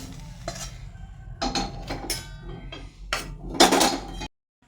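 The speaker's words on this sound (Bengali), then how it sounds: "থালাটাতে পরিবেশন করে দিচ্ছি হচ্ছে আলু চচ্চড়ি" Cutlery scrapes and clinks against a plate as bitter gourd, potato and eggplant curry is served, several separate bursts of spoon-on-dish clatter spaced a second or so apart, close and fairly loud, ending abruptly.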